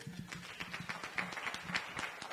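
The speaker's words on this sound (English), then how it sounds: "Give them a hand clap" Audience clapping for panelists at a hair color panel during a dreadlock fashion event, a fairly faint, quick patter of hands heard from some distance, with a low voice underneath.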